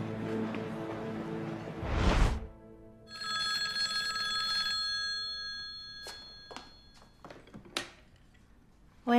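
A telephone bell rings in a burst of steady metallic trilling indoors, in a scene from a dubbed Chinese drama, followed by a few sharp clicks and handling sounds.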